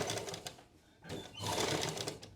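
A sewing machine stitching cloth runs in a close, steady mechanical whir, pausing briefly in the middle before starting up again, with no talking.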